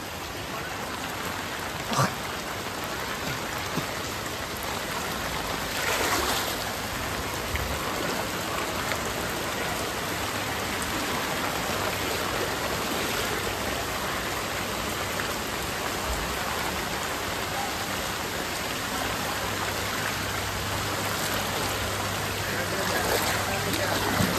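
A continuous wash of floodwater flowing through a street, like heavy rain and runoff, fills the scene for the whole stretch, with a few faint knocks and distant rumbles.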